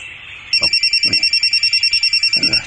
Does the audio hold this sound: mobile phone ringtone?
yes